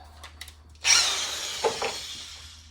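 A spot weld drill whirs up sharply and grinds steadily for a couple of seconds, drilling out spot welds on a Ford Fiesta ST inner quarter panel, with a few faint taps before it starts.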